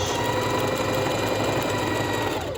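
A sewing machine stitches a stripper one-piece garment, a steady, loud mechanical whir running continuously and close up, with no voices.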